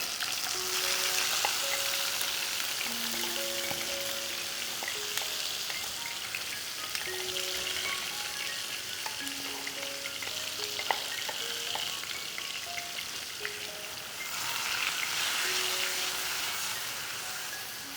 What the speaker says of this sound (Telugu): మనం పేస్ట్ చేసుకున్న పచ్చిమిరపకాయలని ఈ నూనెలో వేస్తున్నాం.